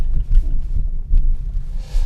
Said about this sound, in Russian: Вот я еду по бетонке, подвеска здесь поменена